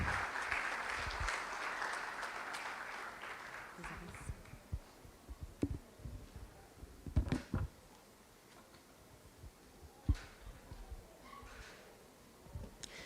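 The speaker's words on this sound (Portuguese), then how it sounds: "Aplauda o Senhor até ela chegar até aqui." A church congregation claps during a Sunday service, a dense burst of applause for the first few seconds that thins out and fades into scattered claps and quiet room sound.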